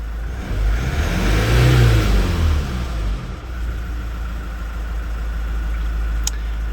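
A Mazda Skyactiv engine is revved to about 3,500 RPM, rising quickly to a loud, close mid-pitched roar and then easing back toward a steady idle hum.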